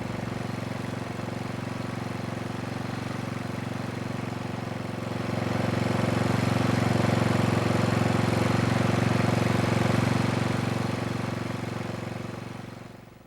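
A Tecumseh small engine runs steadily at idle, a close continuous low putter with an even throb that swells slightly louder partway through before fading at the end.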